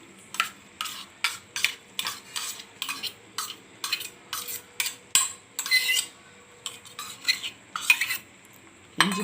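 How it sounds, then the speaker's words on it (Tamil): A spoon stirs ginger paste into boiling sugar syrup for homemade ginger candy, giving steady rhythmic scraping and clinking against the pan with soft bubbling, close and alone without talk. "இப்போ நம்ம எடுத்து அதில் இஞ்சி பேஸ்ட்டை நம்ம போட போகிறோம்"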